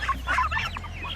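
Soft, close clucking calls from white turkeys, a short burst of throaty bird sounds.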